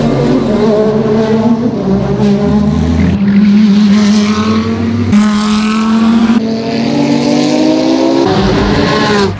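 A race car engine roars loudly and continuously, its pitch rising and falling through gear changes as it revs and passes close by, with no voices.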